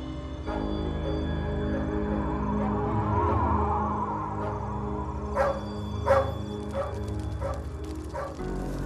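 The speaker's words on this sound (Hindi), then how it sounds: "तो पता नहीं टॉमी क्यों भौंक रहा है।" Tommy the dog barks in short, sharp bursts partway through, several barks spaced irregularly over a steady background hum, fairly close and moderately loud.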